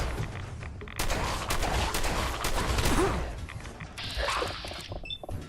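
Shotgun blasts and combat noise in Fallout 4, a run of heavy booming shots with clattering mechanical sounds, moderately loud, ending in a quieter metallic tail.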